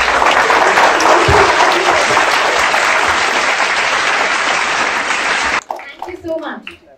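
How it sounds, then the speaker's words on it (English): A meetup audience claps loudly and steadily for several seconds before the applause cuts off abruptly, followed by a person speaking. "So please clap for yourselves."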